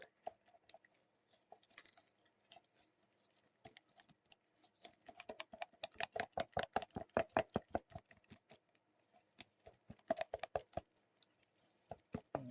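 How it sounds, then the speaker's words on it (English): A popsicle stick stirs blue glitter into a mixture, making quiet, rapid tapping and scraping strokes that quicken into a steady rhythmic run in the middle and then come in looser bursts, faint and close. "And take our popsicle stick. And we're going to stir in that glitter."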